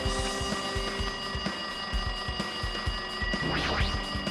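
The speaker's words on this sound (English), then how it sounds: "Looks like that phone is ringing." A telephone rings in the video game Danganronpa 2, a steady electronic trilling repeated throughout with a rhythmic ticking underneath, clear and without talk.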